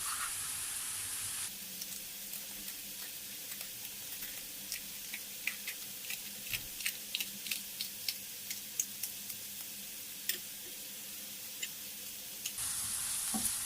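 Soft sizzle of onions frying in olive oil under a run of sharp knife taps chopping peppers on a cutting board, quiet and close, no talking.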